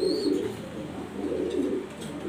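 Pet pigeons, including a male grizzle, cooing at a home loft; soft low rumbling coos repeat steadily throughout, fairly close, with no talking.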